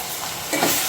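Turmeric fries in hot oil for sambar with a soft continuous sizzle that swells louder near the end, close and brief, with no one talking.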